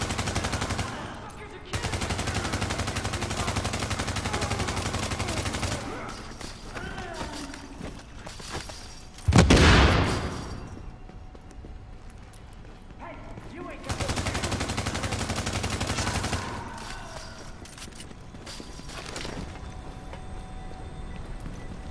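Sustained automatic gunfire in the video game The Division, with long dense bursts of rapid shots, one heavy blast in the middle, and a lull between loud stretches.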